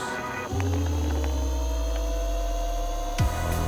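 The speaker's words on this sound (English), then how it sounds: "Do you hear the hum of the motors?" A steady electric scooter hub motor hum drones on, pitch rising and falling slightly as the scooter speeds up and eases off, with no talking.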